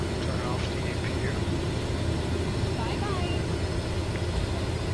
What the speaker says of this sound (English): It's actually very noisy, this plane.